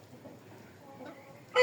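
Young chickens sired by a fighting rooster cluck and cheep faintly at close range, ending in a sudden loud, sharp squawk.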